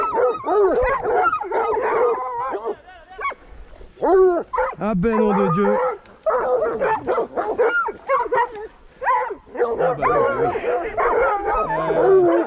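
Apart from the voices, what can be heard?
hunting dogs barking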